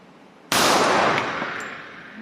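A single loud Colt Competition .45 ACP pistol shot, a Series 70-style stainless model with a 5-inch barrel, cracks sharply out of quiet and leaves a long ringing decay.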